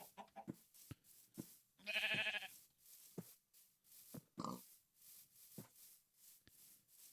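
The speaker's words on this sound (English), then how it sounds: "I'm going to kill that sheep." A sheep in the video game Minecraft gives one short, nasal bleat midway, set among quiet clicks and game noises.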